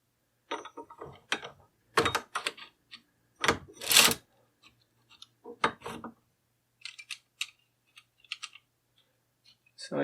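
A vintage Ainslie circular knitting machine being hand-cranked, giving a run of sharp mechanical clicks and clattering bursts at irregular intervals, close and fairly loud against a quiet background.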